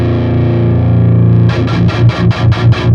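Distorted metal guitar through an Audio Assault Hellbeast amp simulator, loud and close: a held, heavily driven chord rings for a second and a half, then gives way to a fast run of six or seven chugging palm-muted hits.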